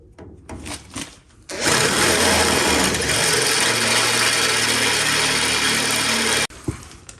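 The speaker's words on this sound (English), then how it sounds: "now we're going to hit it with a 13mm drill" A 13mm drill bit bores into a motorcycle part, a loud sustained whirring grind lasting several seconds, preceded and followed by brief handling clatter.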